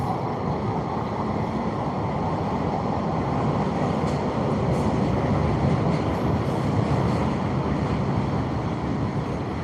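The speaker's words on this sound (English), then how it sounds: "Hear that train a-coming." A train rolling past near a fishing spot, a steady, loud broadband rumble and roar that holds evenly throughout, with some wind buffeting and no talking.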